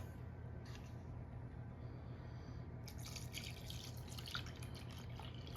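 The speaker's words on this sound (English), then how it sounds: "So now I'm going to be putting in my milk." Milk pours into a bowl of homemade cornbread mix, a faint liquid trickle and splash that grows livelier partway through, over a steady low kitchen hum, with no talk.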